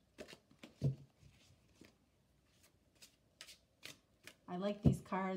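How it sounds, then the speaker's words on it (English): A humongous deck of cards is hand shuffled in several quick riffling bursts, with a longer, louder flurry near the end and quiet gaps between them. "I'm going to just hand shuffle this deck"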